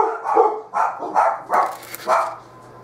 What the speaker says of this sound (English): The dogs were barking.